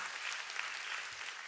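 A church congregation applauds, producing a steady, even wash of many hands clapping together throughout, fairly far off and without letting up.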